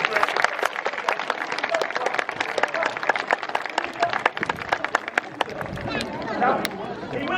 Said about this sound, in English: Give him a round of applause for this